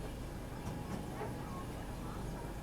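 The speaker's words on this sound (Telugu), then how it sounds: "స్టార్ట్ అయింది ట్రైన్" The Kakinada Town Express pulls away in heavy rain, a low, steady rumble of rolling stock with faint creaks and squeals, heard softly from inside the train.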